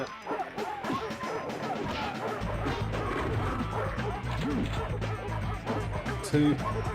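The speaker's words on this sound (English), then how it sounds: "Oh wow, the dog just nicked one of your characters." A dog attacks a character in a Sega Saturn video game, with repeated yips, barks and whimpers amid crashing game effects while players talk over the action.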